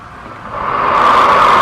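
Airflow rushing through the valve and piping of a small compressible-flow channel, picked up at the channel entrance as a steady hiss that swells from moderate to loud and holds, with no speech.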